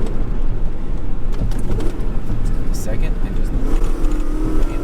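A 1995 BMW 540i E34 with its V8 drops a gear and accelerates hard, a loud close engine roar rising in pitch from inside the car while someone talks over it.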